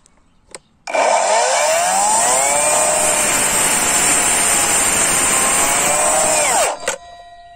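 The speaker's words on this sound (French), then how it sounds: "test de coupe de la planche en sapin, donc je vais appuyer doucement" A cordless Parkside Performance PAKSP 20 miter saw cuts a pine pallet board: a loud, steady high whine for about six seconds that spins down at the end, with nobody talking.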